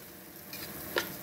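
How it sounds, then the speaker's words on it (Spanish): Rice frying in a pan with a steady low sizzle, a soft scrape of stirring and one brief sharper clink near the end, with no one talking. "Lo voy a dejar por un minutito a que se fríe"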